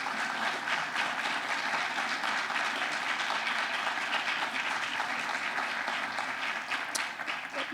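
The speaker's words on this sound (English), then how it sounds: "Let's give them one more round of applause." A high school auditorium audience gives performers of a student show another round of applause, a long, full, steady wash of clapping that tapers slightly at the end.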